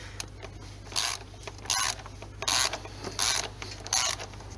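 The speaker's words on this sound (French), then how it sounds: "Donc on reprend nos super clés angulières, le petit cliquet." A small ratchet tightens a plastic oil filter housing during an oil change on a Peugeot 407, giving five short, quiet bursts of clicking spaced about a second apart over a low background hum.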